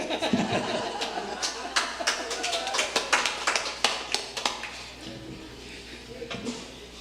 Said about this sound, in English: you can approve by a round of applause